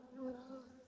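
Honey bees hum steadily at a top bar hive, a continuous close-up buzz that wavers slightly in pitch and loudness, with no voices over it.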